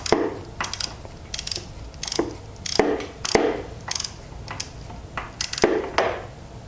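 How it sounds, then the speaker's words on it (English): A hand ratchet with extensions clicks in repeated short bursts while working a spark plug on a 2006–2007 Yamaha R6, sharp close ratcheting strokes with brief pauses between them. "That way I've got more than plenty of room to use my ratchet here."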